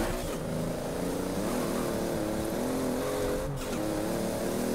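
A Toyota Supra engine in Forza Horizon 4 during a drift run, droning steadily at high revs with a brief dip in pitch mid-way, loud and continuous without talk.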